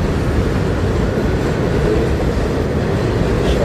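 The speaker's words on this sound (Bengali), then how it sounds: "নিচে গাড়ি চলে, উপরে ট্রেন চলে। একটা ট্রেন আসছে" An elevated subway train passes overhead in Parkchester, New York, filling the whole stretch with a loud, steady roar of wheels and rumbling rail noise, close and continuous, with no talking.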